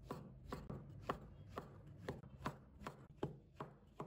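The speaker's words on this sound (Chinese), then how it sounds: "再准备几个香菇，把它切成薄片。" A kitchen knife slices shiitake mushrooms into thin pieces on a cutting board, a steady run of about a dozen crisp, close chops, each with a soft board thud, evenly paced and alone.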